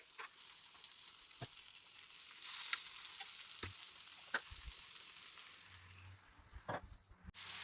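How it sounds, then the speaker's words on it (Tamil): Kingfish (koduva) fish frying in a pan, a faint steady sizzle with a few sharp pops and crackles, quiet and close. "மீன் ஒரு பக்கம் பொரிஞ்சிருச்சு"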